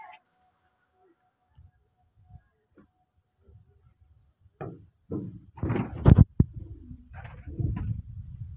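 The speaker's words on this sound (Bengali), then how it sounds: "এই যে কিছু আমার মাদি পায়রা" Female Malwai pigeons coo close by in a loft, soft low throaty coos that grow louder and more frequent toward the end, with faint knocks and shuffling between.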